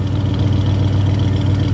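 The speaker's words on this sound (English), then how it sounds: "She's running, and she sounds good. Come listen to this exhaust." A fuel-injected 1965 Chevy truck engine idles steadily with a deep, rumbling exhaust drone, loud and close, holding an even throb throughout.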